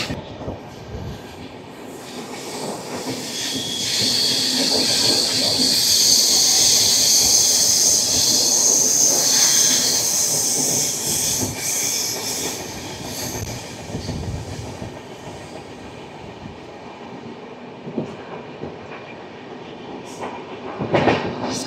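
The Visakhapatnam–Howrah Superfast Express 12868 rolls along past Simhachalam station, a continuous loud rumble of rail travel with a high wheel squeal that swells mid-journey and then eases off.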